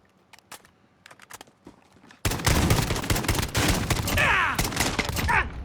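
SKS rifle fire in Call of Duty Modern Warfare: a few sparse distant shots and footsteps, then a sudden burst of loud, rapid close-range gunfire continuing in sharp cracks to the end.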